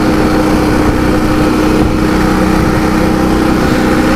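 A Ural motorcycle with a sidecar runs steadily, its engine giving a continuous, loud mechanical drone with no breaks, likely recorded while riding.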